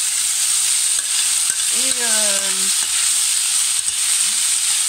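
Vegetables frying in olive oil sizzle loudly and steadily up close while being stirred in the pan, and a brief voice cuts in once over the hiss.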